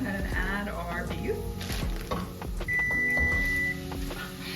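Ground beef sizzles and crackles as it fries in a pan with softened onions, up close and steady. A voice talks over it and an oven timer beeps.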